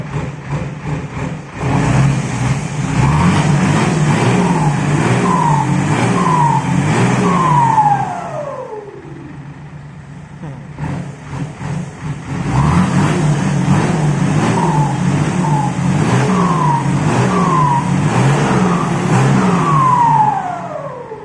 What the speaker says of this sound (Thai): รถก็ สตาร์ทติดปกตินะครับ รถคันนี้เครื่องสวยมากนะครับ